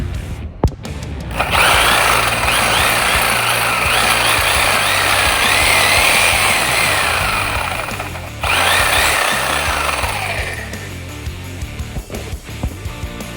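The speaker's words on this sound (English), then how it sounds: "I just cut through this with the Sawzall" A Sawzall reciprocating saw cuts through a Minn Kota trolling motor shaft with a loud, steady, buzzing whine, pausing briefly about two thirds through before resuming, then stopping and leaving a few faint clicks.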